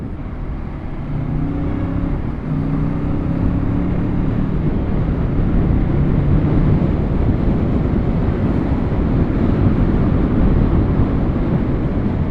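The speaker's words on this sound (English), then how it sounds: "this good amount of wind blast to see how the mic does" Wind blasts across a helmet microphone on an AGV helmet during a Kawasaki ZX10R superbike ride, a loud, constant low roar of buffeting air mixed with engine drone, with brief engine tones early on and no talking.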